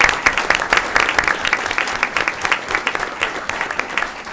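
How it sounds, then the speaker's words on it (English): Applause from a small audience at a school board meeting, steady clapping filling the room for several seconds without talk. "Round of applause."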